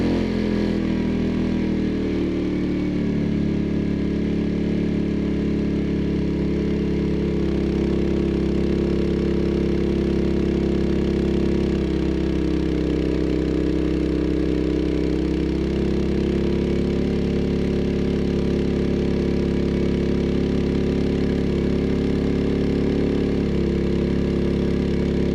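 A small kart engine runs on a homemade dyno at a fairly constant speed, its pitch drifting up and down slightly as the throttle shifts, loud and close.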